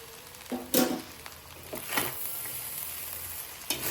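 Mushroom egg fried rice with soy sauce is stir-fried in a pan: a soft, steady sizzle with a few sharp scraping and tossing strokes of the spatula.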